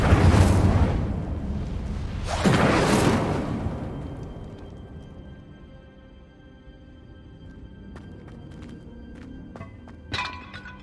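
An Incendio fire spell cast in Hogwarts Legacy: two loud whooshing fiery bursts in quick succession, followed by quieter crackles and a brief sharp impact near the end.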